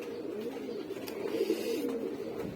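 Pigeons coo steadily in a home loft housing several pairs of birds, a continuous low murmur of overlapping calls at moderate level, with no voices.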